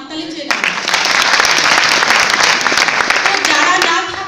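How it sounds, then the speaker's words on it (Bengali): A stage event audience breaks into loud, sustained applause, dense clapping swelling in after a brief pause and holding steady for several seconds before tapering off. "ওনার জন্য হাততালি চেয়ে নেব।"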